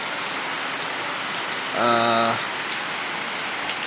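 Rain falls steadily on a vegetable garden in South Africa, a constant soft hiss of drops throughout, briefly overlaid by a short tonal sound in the middle.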